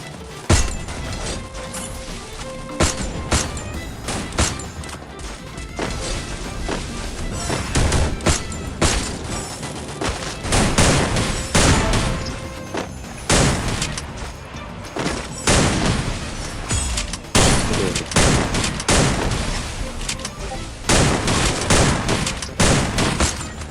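Video game shootout with dense, loud bursts of gunfire and heavy impacts that come in rapid clusters and keep going throughout.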